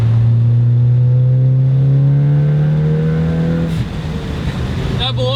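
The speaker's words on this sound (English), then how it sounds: "You can hear the turbo spooling though." Ford Focus ST running E30 fuel pulls hard under load, its engine note climbing steadily in pitch with a rising turbo whine, then breaking off into a lighter rush and flutter near the end.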